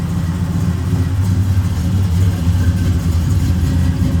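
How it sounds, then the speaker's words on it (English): A 1972 Chevrolet C10 custom pickup with a side exhaust pipe idles steadily, its deep, even rumble loud and close throughout with no talking. "Great idle to it. Nice rumble. Runs real nice."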